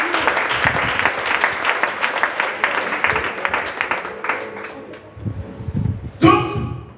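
A church congregation applauding and cheering at a French-language sermon, a dense burst of clapping and crowd voices that fades out and gives way to a short spoken line at the end.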